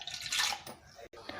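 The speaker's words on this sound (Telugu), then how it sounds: "ఫస్ట్ అయితే మనం 2 కప్పుల వాటర్ తీసుకోవాలి" Two cups of water for rice noodles are poured into a pot, a short splashing gush that trails off and then briefly resumes.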